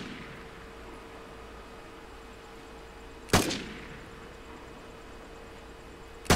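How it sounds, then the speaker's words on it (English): A single sharp, loud gunshot from a handgun-style weapon in the online shooter Vigor, standing out against a steady background hiss, followed by a short decaying tail and the start of another shot at the very end. "just listen to it shooting"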